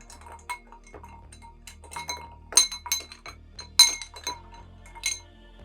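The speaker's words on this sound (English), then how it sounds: "give it a good stir, like a gentle, just to incorporate the brandy and the Benedictine together" A spoon stirs a brandy and Benedictine cocktail in a glass, giving light, close clinks and taps at an uneven pace in a quiet room.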